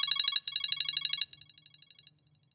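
Beacon alarm ringtone on a phone, a rapid series of bright chiming pulses in quick groups that then drop to a softer, fading run of repeated blips, with no talk over it.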